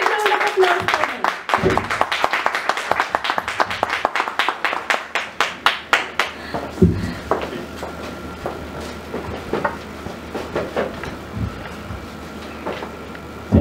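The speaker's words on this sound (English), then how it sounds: "A big round of applause for him." Audience applause at a Toastmasters club meeting greeting a speaker, a burst of clapping with distinct individual claps that thins into scattered claps and fades, nearby and moderately loud.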